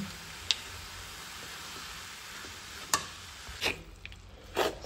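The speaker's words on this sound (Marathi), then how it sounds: "सो ही पळयात हांगासर भाजी जी आसा पळय ती 2 मिनटां तळसून घेतल्या" Vegetables fry quietly in a pan, a soft low sizzle under a few sharp scraping stirs and clinks near the end, no voices.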